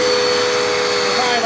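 A Dirt Devil Endura Reach stick vacuum cleaner runs steadily at close range, a loud, constant motor whine with a steady high-pitched tone and broadband airflow rush and no break throughout.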